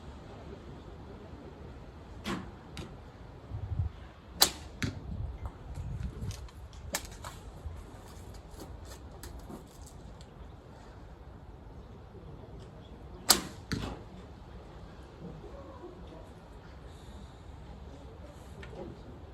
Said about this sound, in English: this crappy release that you hear this arrow slap